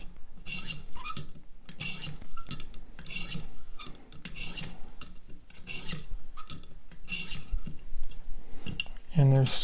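A Hinderer Firetac knife blade is drawn back and forth through a knife sharpener in repeated rasping strokes, about seven of them, each a gritty scrape, with a short metallic ring at the end.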